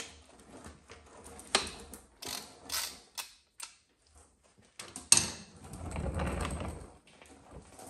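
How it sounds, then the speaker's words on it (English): Ratchet with a 14 mm hex bit loosening the transmission drain plug on a 2014 VW Passat TDI with a DSG gearbox, irregular metallic clicks and clunks in short bursts, close, with a longer scraping stretch near the end. "Now we're gonna pull the drain plug on the transmission, which is a 14 millimeter hex bit."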